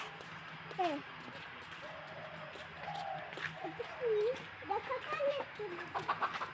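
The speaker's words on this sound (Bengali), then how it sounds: "ওই যে মুরগি এখানে, দেখছো?" A chicken on a rural homestead, its soft clucks and short calls scattered through the clip, faint against steady outdoor background noise, with a nearby voice speaking now and then.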